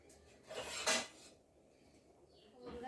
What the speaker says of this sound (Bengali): ভাতটা ফুটে গেছে, একটু নেড়ে দিই